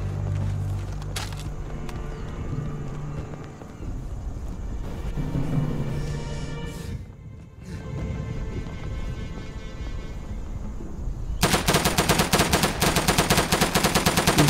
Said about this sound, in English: he's shooting over there, so they're coming